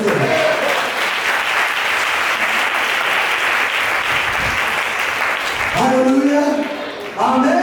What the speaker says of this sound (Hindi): क्या एलिया के परमेश्वर के लिए आप धन्यवाद की ताली दे सकते हैं?